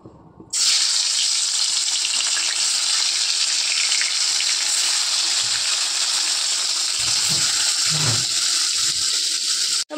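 Fish dropped into hot oil in a wok, a loud, steady sizzle that starts abruptly and holds almost unbroken, with a few clinks of utensils near the end.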